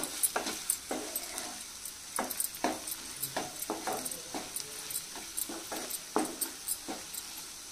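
A spoon scrapes and knocks through onion masala with turmeric and garam masala in a pan, making a steady series of close, crisp strokes over a faint sizzle with no talking.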